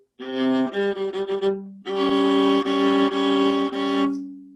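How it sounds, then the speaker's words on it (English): A viola plays a short phrase, then holds a tritone, two notes together in a tense, clashing interval, sustained and fairly loud with no talking. "When I play a tritone on the viola,"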